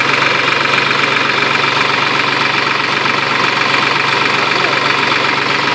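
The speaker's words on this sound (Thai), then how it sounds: "ดับเครื่องได้เลย ดับเครื่องได้เลย" A Ford TT45 truck engine fitted with a fuel-saving steam pipe runs at a steady idle, loud and close, a continuous even drone with a faint rhythmic knock and no pauses.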